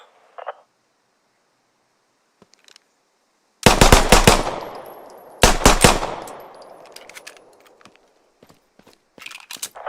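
Bursts of gunfire from the military shooter Squad on a training course: two loud rapid volleys of shots with trailing echo, plus a few scattered single shots and clicks amid near silence.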